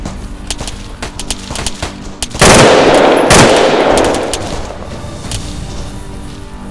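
Gunfire from the military shooter game Arma 3, a loud burst of shots and a heavy blast with a long decaying rumble around the middle, set against scattered sharper cracks throughout.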